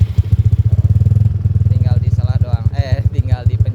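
A restomod Yamaha Mio Smile motorcycle with a non-standard engine runs at a steady, fast idle with rapid even pulses, close and fairly loud. Someone talks over it in the second half.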